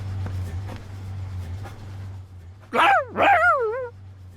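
Two loud, close dog barks from the video game Octopath Traveler II, coming in quick succession over a low steady game hum, each with a yelping, wavering tail.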